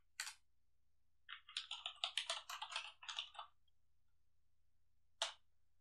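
Typing on a computer keyboard while coding in Visual Studio: a single keystroke, then a quick run of several clicking keys, then one more tap after a pause, close and quiet with no speech.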